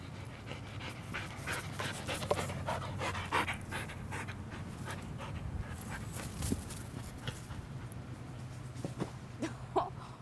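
A dog pants steadily and close by, quick rhythmic breaths running without a break at moderate loudness, with a faint whimper near the end.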